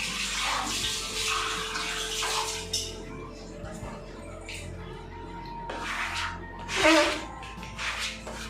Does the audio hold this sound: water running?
yes